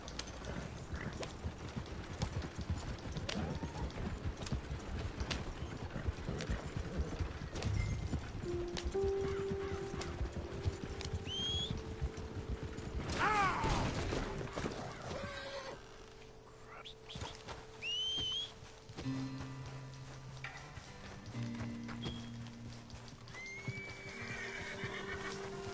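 Horse in Red Dead Redemption gallops with steady clip-clop hoofbeats and gives several whinnies and neighs, loud and close, over outdoor ambience with occasional birdsong.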